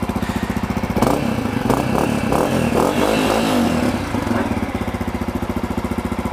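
A 2020 Honda CRF 250F dirt bike on its stock exhaust runs during a cold start, a steady loud idle thump that rises into a few sharp revs in the middle before settling back to an even idle.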